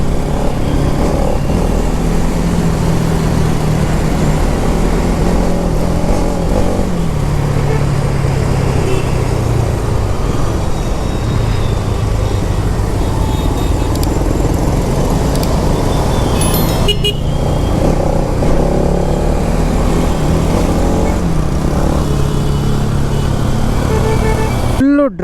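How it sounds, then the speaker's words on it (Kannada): A 2023 Bajaj NS200 BS7 motorcycle ridden hard at full throttle through city traffic, its loud engine and rushing wind noise continuous, with car horns and other traffic around and a rider talking over it. "ರಪ್ ರಪ್ ರಪ್ ಅಂತ ಬಿಡ್ತಾ ಇದೆ ಗಾಡಿ"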